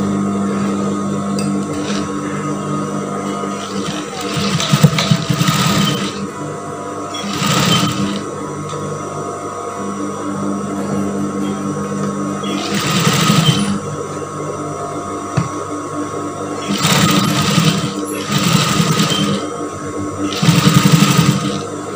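A sewing machine stitches batik blouse fabric in several loud, close bursts of rapid mechanical stitching, separated by pauses where a steady background hum continues.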